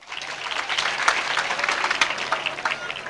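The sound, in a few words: applause for the teachers at a school prize-giving ceremony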